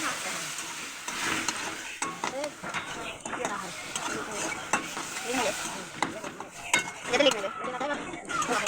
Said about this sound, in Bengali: সুজিটা হালকা লাল লাল ভাজা হয়ে যাবে